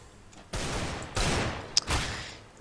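Three heavy gunshots from Counter-Strike: Global Offensive, likely a Desert Eagle, fired at even intervals with sharp onsets and short decaying tails, loud and close with no talk over them.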